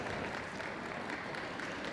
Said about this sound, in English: Quite right, do give them lots of applause